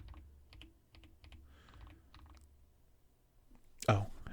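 Soft, scattered keystrokes on a Tecware Spectre 75 mechanical keyboard tap out close and quiet, ending with one louder thump.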